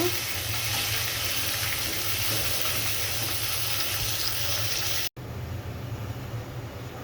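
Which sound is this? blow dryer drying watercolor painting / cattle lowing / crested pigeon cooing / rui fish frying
rui fish frying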